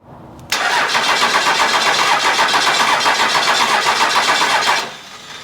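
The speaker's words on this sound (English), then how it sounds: "Why does it sound like one of those cylinders doesn't have compression?" A junkyard 12-valve Cummins diesel engine cranking over on the starter: a loud, steady, rapid mechanical churning that begins abruptly and runs about four seconds before cutting off, with a faint uneven rhythm in the turning.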